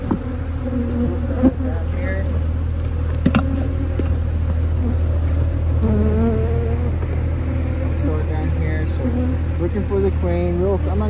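Honey bees buzz in a dense, steady drone throughout a hive inspection of colonies just back from almond pollination, with close, loud hum and a voice talking intermittently over it.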